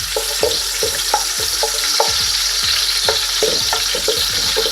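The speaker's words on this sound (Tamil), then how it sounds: "இப்போ முதல்ல நீங்கள் கஜு பருப்பை போட்டு லேசாக பொரிச்செடுங்க." Cashew nuts frying in ghee in a pan, with a continuous hiss of sizzling oil and repeated scraping taps of a spoon stirring at a steady rhythm, close up.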